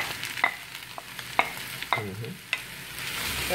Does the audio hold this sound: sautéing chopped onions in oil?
yes